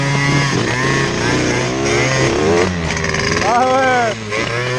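Close, loud small scooter engine buzzing and revving steadily while riding during engine break-in, its pitch rising and falling.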